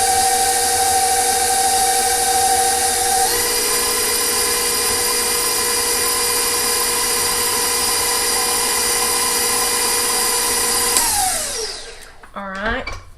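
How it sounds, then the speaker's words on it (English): An electric mixer creams soft pound cake batter with a loud, steady whir that shifts pitch partway through, then winds down and stops near the end. "I'm going to cream this I'm going to cream it. It's very soft, so it shouldn't take very long."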